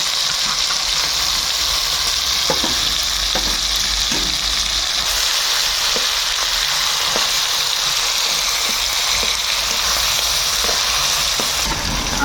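Dried chili and ginger fry in hot oil with a steady, close sizzle and faint clicks of stirring throughout, with no one talking.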